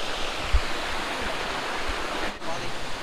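A waterfall at Temple Falls roars as a steady, loud wash of broadband rushing water, close and continuous, with faint low thumps from movement nearby.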